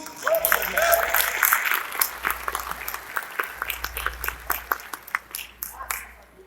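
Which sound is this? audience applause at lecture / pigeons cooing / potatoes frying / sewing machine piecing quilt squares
audience applause at lecture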